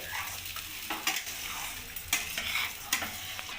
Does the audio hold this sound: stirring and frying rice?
yes